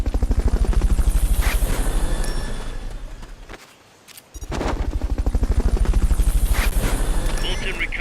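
Fulton recovery helicopter in Metal Gear Solid: Peace Walker, a loud, dense, steady rotor chop that drops away for a moment mid-clip and then returns at full strength.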